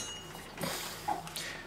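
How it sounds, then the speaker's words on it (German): Spare ribs set onto a metal oven grate give a couple of soft clinks and scrapes, brief and fairly faint against a quiet background. "Auf dieses Gitter werde ich jetzt die Ribs platzieren und so dann ja, im Backofen reinwuchten"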